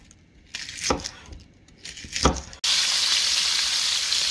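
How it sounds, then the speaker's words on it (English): Rabbit meat drops into a hot frying pan and a loud, steady sizzle starts up, after a few clinks and handling sounds. "Right, she's in the pan, getting it seared, bloody good."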